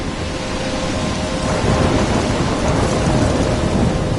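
A video game thunderstorm: continuous heavy rain with a deep, rolling thunder rumble that swells slightly midway, loud and unbroken throughout.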